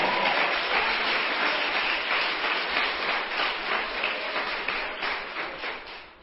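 A large church congregation applauding steadily, dense and continuous clapping that fades slightly toward the end.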